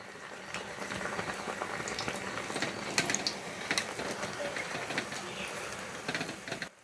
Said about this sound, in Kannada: ಡೀಪ್ ಫ್ರೈ ಮಾಡಬೇಕು ಸ್ನೇಹಿತರೆ ನಿಮ್ಮ ಮೀಡಿಯಮ್ ಫ್ಲೇಮಿಂದ ಡೀಪ್ ಫ್ರೈ ಮಾಡಿದರೆ ತುಂಬ ಚೆನ್ನಾಗಿ ಬರುತ್ತೆ